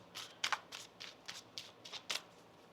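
Tarot cards are shuffled up close, giving a run of quick, crisp riffling snaps and papery slides in an uneven rhythm at low volume.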